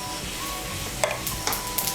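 Whole cumin seeds, a cinnamon piece, cardamom pods and cloves crackle and sizzle in hot oil while being stirred, with a steady close frying hiss and a few sharp scraping clinks of a spoon against the pan, no talking.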